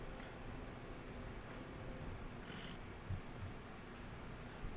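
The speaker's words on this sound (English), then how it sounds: "Apologize if you hear some background noise. We've got a cricket" A cricket trills indoors in a room, a thin, continuous high chirp that holds steady throughout at low level over faint background hum, with no one talking.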